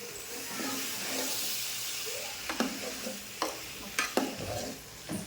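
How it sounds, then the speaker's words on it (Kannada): Food frying in a pan is stirred, a steady close sizzle and hiss broken by several sharp scraping and clattering strokes of the spoon in the second half. "ಈಗ ತಿರುಗಬೇಕು"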